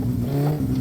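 In the My Summer Car video game, the engine of a Satsuma car runs with a steady, loud low hum and a brief continuous idle.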